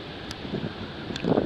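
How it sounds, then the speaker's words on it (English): A strong wind gust of around 35 mph on the Kankakee River buffets the microphone with low rumbling roar, rising near the end, with faint water sounds and no talking. "35 mile an hour wind gust"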